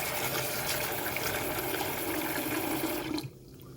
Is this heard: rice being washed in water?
yes